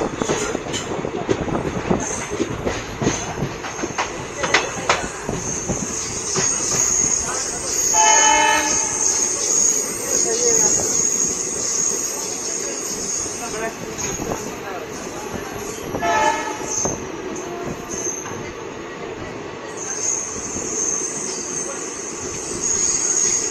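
Horn blasts sound twice, each a long tonal blare, as the Alipurduar Intercity Express runs through Sivok station without stopping. Beneath them is a continuous close rumble and clatter of the moving train, with a voice briefly heard.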